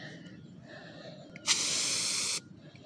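A short burst of aerosol spray aimed at a wasp hisses loudly for about a second, starting abruptly and stopping cleanly against a quiet background.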